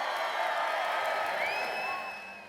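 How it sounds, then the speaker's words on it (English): A crowd of hundreds cheers and whoops in a high school gym at a Mike Bloomberg presidential campaign rally, a sustained roar with a few shrill whistles that begins to fade toward the end. "Hundreds cheering at Laney High School for one of the Democratic presidential candidates."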